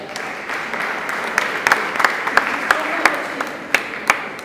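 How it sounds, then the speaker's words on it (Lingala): Applause from an audience at a Congolese comedy show, a light, scattered patter of hands with a few sharper individual claps standing out, fairly soft and steady across the moment with a faint murmur of background noise. "j'applaudis pour vous-même."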